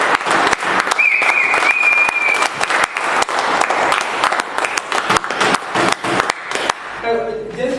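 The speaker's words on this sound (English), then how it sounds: "Please give a loud round of applause to all the participants and the table topic." Applause at a Toastmasters club meeting for table topics participants, a dense burst of many hands clapping steadily for about seven seconds before cutting off, followed by a brief quiet tail.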